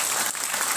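A crowd claps through a business opportunity talk, with dense, steady applause filling the short moment and only a brief dip partway through.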